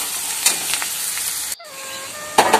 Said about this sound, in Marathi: परतून घ्यायचा आहे कांदा व्यवस्थित.